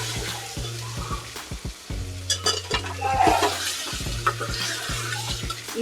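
Taro (chamagadda) stirred in a cooking pot with a spoon, giving repeated close scraping clacks against the metal over a steady sizzle and a low hum.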